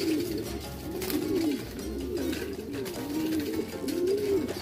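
Racing pigeons coo repeatedly nearby in a soft, rolling rhythm, several low burbling calls in succession over a mild background hum.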